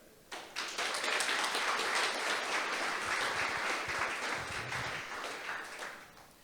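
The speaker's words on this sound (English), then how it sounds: "There you go, applause." Audience applause at a startup community forum, a sustained wash of many hands clapping that starts abruptly, holds steady and loud, then slowly thins toward the end.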